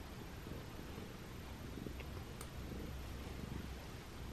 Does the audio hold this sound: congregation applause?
no